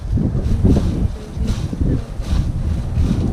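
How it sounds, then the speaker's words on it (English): Strong wind roars against the microphone in heavy, continuous gusts, loud and close, with no other clear sounds, outdoors in Roswell, New Mexico. "Oh, it's windy, so you may not be able to understand us either."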